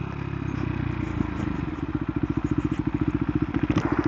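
KTM Duke 390 motorcycle downshifting, the close engine hum turning into a rapid, even train of firing pulses as revs rise after the shift, with light mechanical clatter and a small click near the end.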